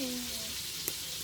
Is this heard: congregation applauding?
no